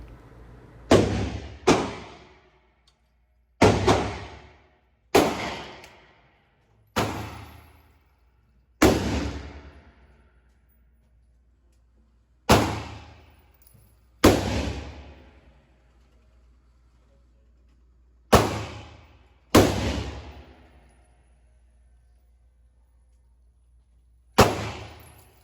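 A Sig Sauer P365 XL pistol fires at an outdoor range with a red dot sight, sharp loud shots spaced irregularly, some in quick pairs, each ringing out and decaying over a low steady background.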